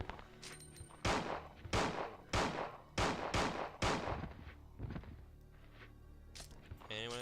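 Gunfire in the zombie horror game Resident Evil 2: about five loud, evenly spaced gunshots close up, each with a short sharp decay, followed by softer game noises.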